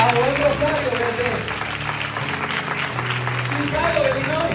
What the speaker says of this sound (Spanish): con un fuerte aplauso recibamos a Nahum Rosario